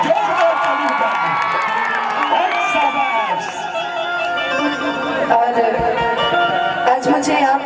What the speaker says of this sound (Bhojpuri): एक जोरदार ताली बजाइए, जोरदार ताली बजाइए।